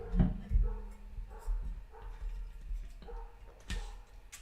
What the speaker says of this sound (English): Every time I go live, they start barking.